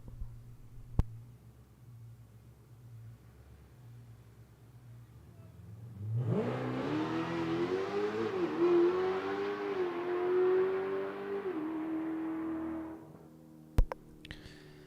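A drag racing car at a qualifying run revs its engine midway through, the roar rising steadily in pitch for several seconds before cutting off, heard at a moderate distance over faint background hum.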